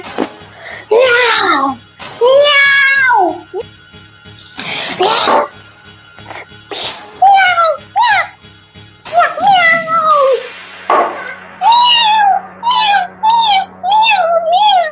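A person repeatedly imitates a cat's meow, producing a long run of high, drawn-out vocal mews close to the mic, mixed with a few coughs and throat-clearing noises and some ordinary talk.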